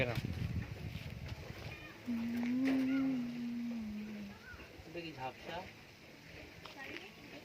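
A cow moos once in a long, loud, drawn-out call in a village, with a calf nearby, while people talk around it and other voices and rustling continue before and after.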